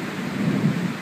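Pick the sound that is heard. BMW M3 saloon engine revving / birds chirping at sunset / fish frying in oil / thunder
thunder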